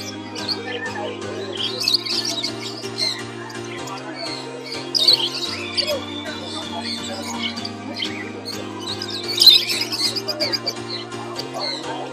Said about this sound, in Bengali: এইগুলো হচ্ছে বদ্রিকা